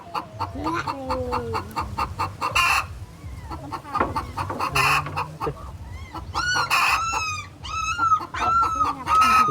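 Chickens clucking and a rooster crowing nearby in a busy farmyard, with repeated calls layered over steady background noise and occasional other animal sounds.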